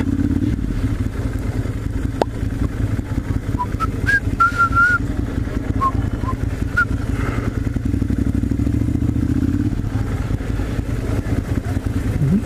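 Motorcycles at a European bike night in the old Haymarket downtown district of Lincoln, a steady loud engine rumble throughout with brief whistle-like tones and clatter over the crowd-street din.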